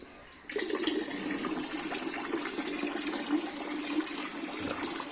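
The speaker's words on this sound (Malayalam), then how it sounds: "അതിനകത്ത് പത്ത് ലിറ്റർ വെള്ളം ഒഴിച്ചു കൊടുക്കുകയാണ്" Ten litres of water gush into a container in one continuous, close pour that starts abruptly and keeps a steady splashing rush to the end, with no voices over it.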